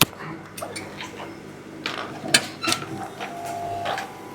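A sewing machine stitches the edges of a strap holder on mule shoes, giving close, uneven mechanical whirs and clacks in short bursts with brief pauses between runs.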